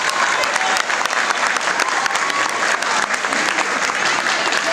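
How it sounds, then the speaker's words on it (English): Sustained applause from a 2023 fifth-grade graduating class at PS 195, dense clapping filling the room at steady loudness, with scattered voices in the crowd. "Now let's give ourselves a round of applause."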